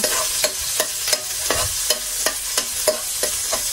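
Vegetables for pancit sauté in a pan under a steady sizzle, punctuated by regular, loud scrapes and clanks of a utensil stirring roughly every third of a second, close up with no talking.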